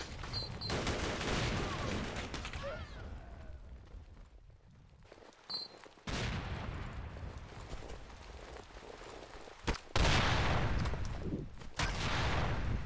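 Sniper rifle gunfire in a shooter video game: several loud, sharp cracks spread irregularly across the stretch, set against continuous game noise and occasional talk.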